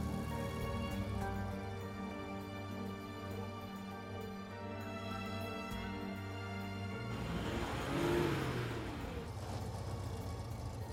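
A car engine idles and runs steadily, a low continuous hum with a slight rise in revs near the end, heard fairly close with no talking over it.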